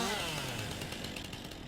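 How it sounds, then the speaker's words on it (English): Chainsaw cutting a tree in the Farming Simulator 19 video game, a steady droning engine whine with a rough buzzing edge, continuous and fairly loud throughout, with no talking. "Well, I'm going to take out my chainsaw."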